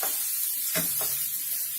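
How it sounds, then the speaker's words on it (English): Diced potatoes and chilies are stirred through a hot pan of oil and spices, with a steady soft sizzle. A few short scraping strokes sound close by, and no one speaks. "We give all of this a good mix"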